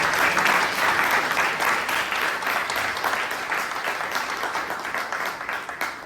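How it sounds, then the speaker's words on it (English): An audience at a Bangalore Toastmasters club meeting gives a big round of applause, loud and dense clapping that holds steady and tapers slightly toward the end. "please give him a big round of applause"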